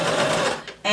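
A domestic sewing machine runs forward through fabric in a fast, steady whirring stitch, then briefly pauses before starting again, up close and loud.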